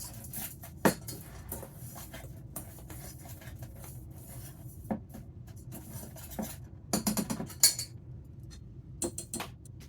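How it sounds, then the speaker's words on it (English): A whisk stirs ingredients for two-ingredient bagel dough in a bowl, giving faint scraping and sporadic light clinks against the bowl, quiet and irregular. "let me just whisk that together"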